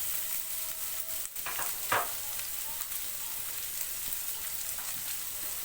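Thinly sliced raw turmeric and garlic fry lightly in oil, giving a soft, steady sizzle with a couple of brief scraping stirs partway through.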